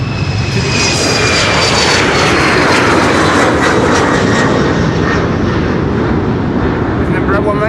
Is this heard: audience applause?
no